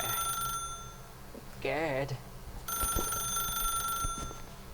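A telephone rings in the video game The Stanley Parable, a warbling electronic ring in one short burst, loud and close against steady game ambience, with a brief spoken word afterward.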